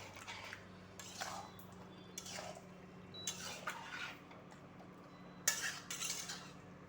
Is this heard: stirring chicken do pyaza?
yes